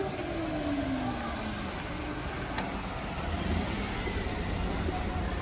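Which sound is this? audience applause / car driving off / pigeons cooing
car driving off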